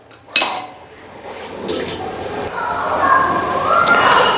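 A clatter of dishes opens, then running water from a kitchen tap builds and gurgles steadily into a sink, with faint kitchen clinks.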